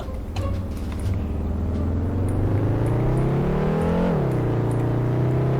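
A car drifting in the Roblox game Taxi Boss, with a steady engine drone that climbs in pitch, peaks, then drops back to a sustained hum, heard alone without talk.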